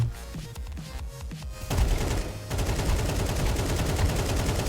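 An AK rifle fires in the video game Counter-Strike 2, first in short bursts and then in sustained rapid automatic fire, loud and close with dense repeated cracks.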